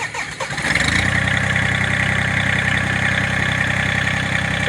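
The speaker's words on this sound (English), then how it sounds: "So we will get the tractor fired up here." A Massey Ferguson tractor engine cranks and fires up, then settles into a loud, steady diesel idle close by, with no voices.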